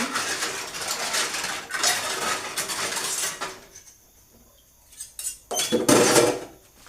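Water runs and splashes over dishes in a kitchen sink while plates and cutlery clatter, steady for several seconds, then dropping quiet before a few more rinsing bursts and clinks.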